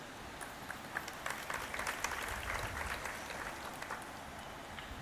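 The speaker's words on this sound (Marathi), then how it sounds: "माणसांनी टाळ्या का वाजवल्या कळलं का?" A large audience at a Marathi religious discourse claps together in a broad, steady wash of applause, moderately distant and continuous for several seconds with no speech over it.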